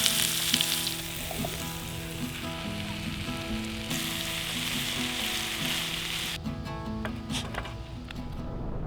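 Kimchi fried rice sizzles steadily in a pan at a campsite in Acadia National Park, a continuous close frying hiss with occasional stirring scrapes and no talk.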